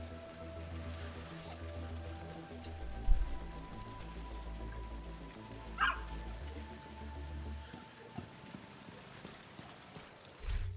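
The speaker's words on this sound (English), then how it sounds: "Always got to pet the dog." In the video game The Division 2, a dog is petted and responds with soft yips and whimpers, heard over a low, repeating pulsing game ambience.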